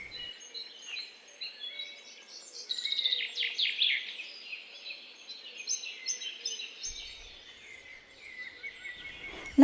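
Birds in a June garden sing and chirp continuously in bright, twittering phrases, moderately close, with a quiet background and no talking.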